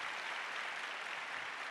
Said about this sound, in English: I think we should clap so loudly that we should be heard till